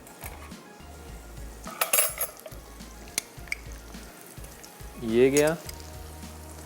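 Garlic-ginger paste hits a hot pan for apple murabba and sizzles softly. Spoon and pan clinks ring out around it, with a brief voice speaking.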